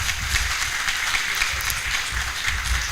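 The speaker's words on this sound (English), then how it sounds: "Please clap for your father." Sustained applause from a crowd at an induction ceremony, steady clapping throughout with no pauses.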